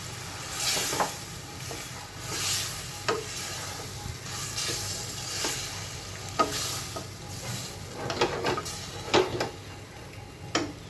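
Fresh river tara baim fish pieces sautéing in spices in a pan, giving a steady close sizzle broken by irregular clicks and scrapes of a stirring spoon, with no voices.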